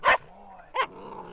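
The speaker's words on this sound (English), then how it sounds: "Titom will be the first Karelian Bear Dog to join the National Park Service." A Karelian Bear Dog, a National Park Service wildlife dog, gives two sharp barks about 0.7 seconds apart, loud and close, with quiet background between them.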